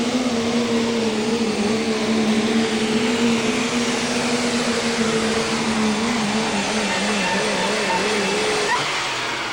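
A diesel 4WD truck at a summer nationals tractor pull roars loud and steady on a hard pulling run, its deep drone wavering in pitch before dropping off near the end.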